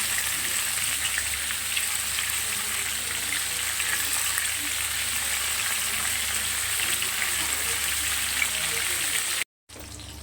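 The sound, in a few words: cauliflower frying in a pan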